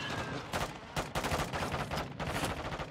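Rapid automatic gunfire in Warzone 2 at Vondel Park, several dense bursts firing back to back with short gaps between them, loud and close throughout.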